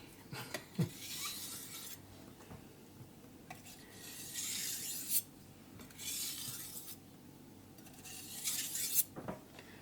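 A VG10 steel knife slides over an Atago 1000 grit whetstone in slow, repeated gritty strokes, each lasting about a second or two, close and fairly quiet, broken by light clinks.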